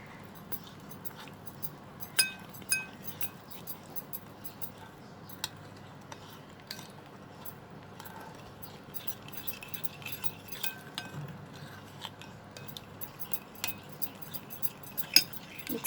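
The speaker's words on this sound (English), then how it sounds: "Let's mix the spices." A spoon stirs spices for a chilli pickle, clinking lightly and often against a glass or metal bowl, soft repeated taps over low kitchen background noise.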